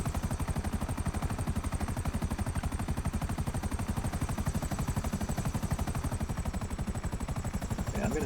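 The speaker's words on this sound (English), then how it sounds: "it's almost impossible to fly this helicopter without a controller" Buzzard Attack Chopper helicopter in a video game, a steady, rapid rotor thumping that holds at an even, close level throughout with no talking.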